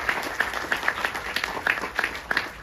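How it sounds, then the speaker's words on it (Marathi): An outdoor audience claps in thanks for helpers at a Diwali fort-building competition honouring Chhatrapati Shivaji Maharaj, a moderate round of applause with distinct individual claps standing out over a steady hiss. "टाळ्यांचा गडगडाट करूया"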